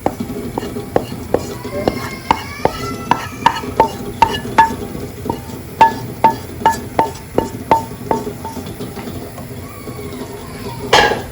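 Sautéed vegetables being stirred into a pot of coconut vegetable jollof rice, a steady run of sharp spoon clinks and scrapes against the pot, loud and close, with faint talk in the background.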